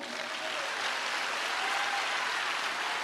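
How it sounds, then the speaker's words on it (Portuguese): Steady, dense applause from a church congregation during a live sermon, a continuous wash of clapping that holds at an even loudness for the whole few seconds without any talk over it. "Por isso, pode aplaudir."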